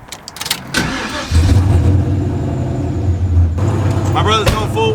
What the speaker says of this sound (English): we're gonna get on the road, take it for a drive, make some boost